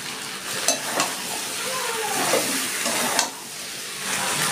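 Potatoes sizzle and fry steadily in a pan for a mango chicken curry, with a few soft clinks and stirring scrapes over the continuous hiss.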